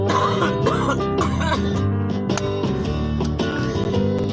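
Someone coughs and clears their throat after smoking, several rough coughs up close, heard over loud continuous music.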